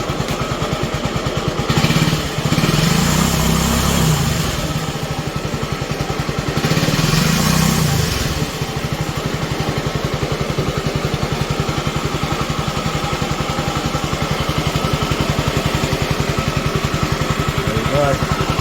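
A Honda ST90 motorcycle engine idles steadily with a clattering pulse, swelling briefly in two short revs early on before settling back to a steady idle, heard up close.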